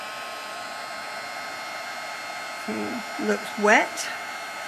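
Hair dryer blowing steadily on a wet paper craft piece, a constant airy whir running throughout at moderate level, with a few brief spoken words rising over it near the end.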